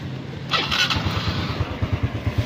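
A Honda Wave 110 motorcycle's engine cranks and catches, then settles into a low, rapid, steady idle putter close by.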